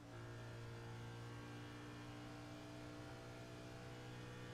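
Race car engine held at steady full throttle through a corner in an iOS Cup Series racing video game, a continuous loud droning whine with stable pitch and no break across the whole stretch.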